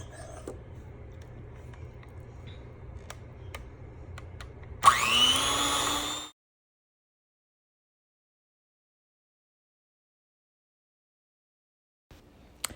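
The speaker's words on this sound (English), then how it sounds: "And now I am just going to blend." An electric blender starts up loud and close and whirs steadily for about a second and a half while whipping shea butter, mango butter, coconut, jojoba and almond oils, then stops abruptly and leaves silence.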